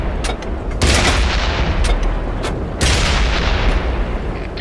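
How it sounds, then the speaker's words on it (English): Tank cannon fire in the World of Tanks video game: two loud, broadband booms and several sharper cracks over a constant rumbling battle bed, with no speech. "Ready to fire on target."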